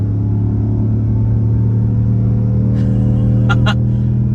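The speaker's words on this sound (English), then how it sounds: "The Hemi is working incredibly hard here." A Ram 1500 Hemi V8 at full throttle while towing a heavy skid steer gives a steady, loud, low droning engine rumble from inside the cab, with a couple of brief clicks near the end.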